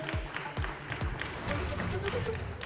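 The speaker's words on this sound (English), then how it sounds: "A round of applause, please, ladies and gentlemen." Audience applause at an Ideas of India Summit stage event, a dense crowd of clapping hands sustained throughout with low rumbling footsteps or thuds and some voices murmuring underneath.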